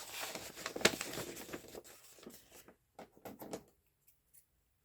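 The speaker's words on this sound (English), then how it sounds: "we're just going to cut all the little intersections out" Scissors snip through paper at a craft table, a run of quick crisp cuts and rustles that thin out into a few faint isolated snips before quiet.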